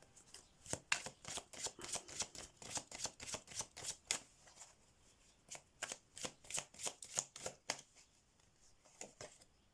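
Tarot cards being shuffled by hand in quick riffling bursts, a steady rhythmic run of crisp flutters, close and fairly quiet, with a brief pause before more shuffling.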